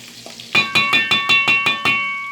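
Butter melts and sizzles in a hot pan for pork chops, under a run of about seven evenly spaced, ringing metallic clinks as a utensil strikes the pan.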